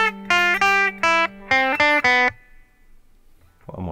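Measures 5 and 6 of the Super Mario Bros. theme on guitar: two groups of crisp plucked notes in a quick, jumpy rhythm, close and clear, then fading into quiet with a soft noise at the end.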